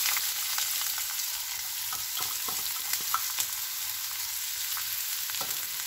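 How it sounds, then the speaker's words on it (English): Finely chopped onions and split green chilies sauté in hot oil in a pan, a steady close sizzle with scattered crackles and pops running the whole time, no voices. "Saute the onions well. Onions are fried well."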